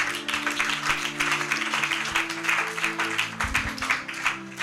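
A church congregation applauds together, a sustained wash of many hands clapping at a moderate distance, steady and unbroken for several seconds, with faint tonal sounds beneath.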